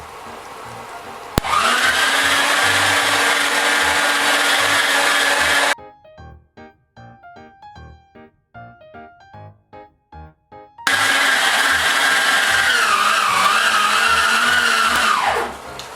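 An electric meat grinder runs to empty out the mincer, its loud, steady motor whine holding for several seconds, dropping away to a quieter stretch, then returning at full strength before winding down.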